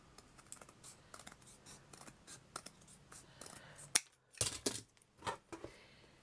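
Scissors cut a small piece for a handmade miniature gypsy caravan, giving a few crisp snips after soft ticking and tapping, close and quiet, with no talking.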